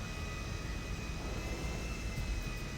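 Steady, continuous airliner engine roar from GTA V, a full broadband rumble with a thin high whine riding on top, holding even and close throughout as the plane taxis in to park at the airport.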